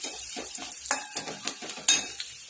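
A tempering of garlic, onion, asafoetida and dried red chilies fries in a pan with a light sizzle and quick stirring strokes, plus several sharp metallic clinks of a utensil against the pan.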